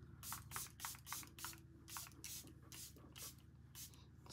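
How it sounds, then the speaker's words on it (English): Setting spray is misted onto a face in about ten quick, rhythmic bursts, close and soft over a low steady background hum. "I'll quickly go ahead and spray the face to set everything in place."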